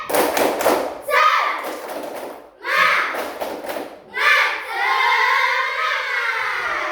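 Schoolchildren in an elementary classroom do a rhythmic spirit clap: a quick burst of hand claps, then loud group chanting in young voices that rises and falls and holds a long final call.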